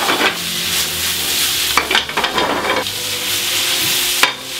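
Garlic and potatoes frying in butter in a pan, a loud continuous sizzle broken by bursts of scraping and stirring as the food is turned, close up and with no voices.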